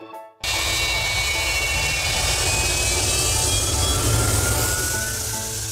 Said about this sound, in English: The Antonov An-124 Ruslan is the second largest cargo aircraft in the world after the An-225.